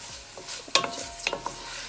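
Crushed chilli being tossed in a hot pan while making pumpkin soup, a few quick scraping stirs and light sizzles close up, short and alone with no talk.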